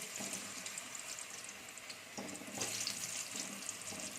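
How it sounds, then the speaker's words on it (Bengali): Paneer pieces dropped into hot oil sizzle with a bright, steady crackle, growing briefly louder and busier partway through as more pieces hit the pan, with no talking over it. "আমি এবার পনিরগুলোকে ছেড়ে দিচ্ছি তেলের ওপরে"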